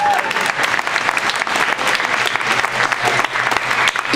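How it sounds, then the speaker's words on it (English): An audience claps steadily and loudly at a comedy hypnosis show, a dense wash of applause with a voice faintly heard beneath it. "Give them another big round of applause"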